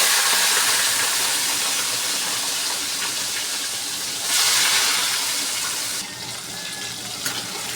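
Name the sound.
prawns frying in hot oil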